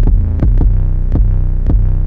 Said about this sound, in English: The 808 used in this song is a pretty popular 808. I think it's the Zaytoven 808.